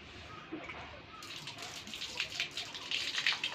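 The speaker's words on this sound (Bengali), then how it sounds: "ওই ব্রাশ দিয়ে আস্তে আস্তে জল দিয়ে তুলতে হবে।" Water splashes and patters while a brush scrubs the mesh filter net of an air conditioner during a home service. The wet scrubbing swishes grow busier and louder toward the end, close and steady, with no talk.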